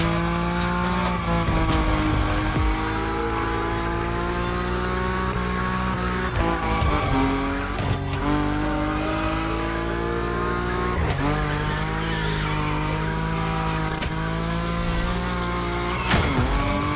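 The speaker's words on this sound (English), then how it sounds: "Your Nismo is powerful enough to slide along on its own when you're at high speed" A powerful Nismo car in The Crew Motorfest slides at high speed in a drift, its engine droning steadily and loudly while the tires squeal without a break, the pitch swooping through several gear shifts and slide changes.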